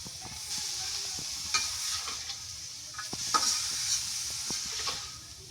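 Bean seeds being cooked in a wok, stirred by hand with a utensil, give soft irregular scraping clicks over a faint, steady frying hiss, close up and with no talking.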